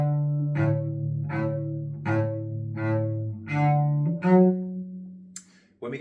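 A bowed string instrument plays a slow melody line, about six sustained notes in steady succession, clear and close, with no voices.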